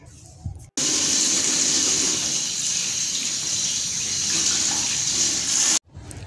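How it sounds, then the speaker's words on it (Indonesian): Hands are washed with soap under running tap water, a strong continuous gush that starts abruptly, holds steady for about five seconds and then cuts off. "Cuci kedua tangan dengan sabun dan air mengalir, kemudian keringkan dengan tisu atau handuk pribadi yang bersih dan kering."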